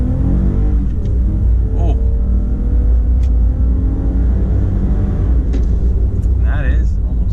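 Engine noise from a 2020 Toyota Highlander Limited V6 with all-wheel drive accelerating hard, a steady loud rumble that holds throughout under the cabin sound, with a brief voice exclaiming.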